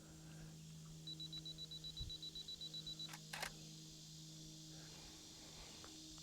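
Outdoors in a quiet woodland at Harriman State Park, a camera shutter fires a couple of soft, close clicks while taking a landscape photo, preceded by faint rhythmic ticking over a hushed background.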